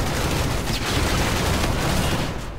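Sustained automatic fire from the X-Eon assault rifle in Call of Duty: Infinite Warfare multiplayer, a loud unbroken stream of rapid shots with booming undertones, tapering off slightly at the very end.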